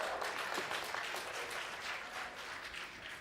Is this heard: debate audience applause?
yes